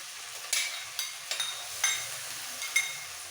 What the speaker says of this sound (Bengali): ঝালটা একটু ভেজে দিতে হবে আবার একটু মিক্স করে দিয়ে দেবো